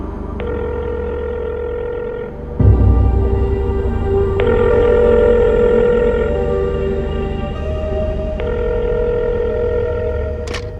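A phone rings repeatedly in long, tonal electronic bursts over a low rumble, loud and close, with no one speaking.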